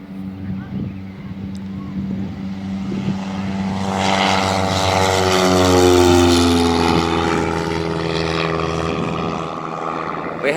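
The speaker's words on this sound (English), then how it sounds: "Here comes the first plane taking off." A propeller airplane taking off at a busy plane-spotting airfield, its engine drone building from a steady hum into a loud, rising roar with climbing propeller tones before easing slightly as it moves away.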